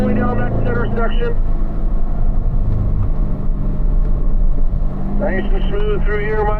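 A Corvette accelerates along a race track's center section, steady loud engine drone close up inside the cabin, with someone speaking over it at the start and end.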